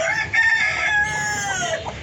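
A rooster crows close by, one long, loud call that rises and then trails off, with faint clucking around it, among spotted and kappiri breeder hens.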